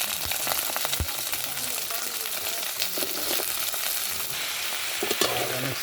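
Freshly cut tuber pieces (dumpalu) hit hot oil in a pan and fry with a loud, continuous close-up sizzle, broken by occasional clacks and scrapes as the pieces are moved around.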